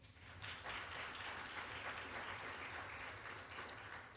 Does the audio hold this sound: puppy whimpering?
no